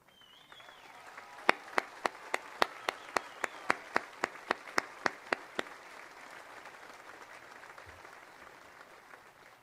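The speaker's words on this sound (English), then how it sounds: "Please stand for applause." Applause for cum laude graduates at a high school commencement, heard as a sparse run of distinct, evenly spaced hand claps over a faint room background, thinning out and stopping partway through.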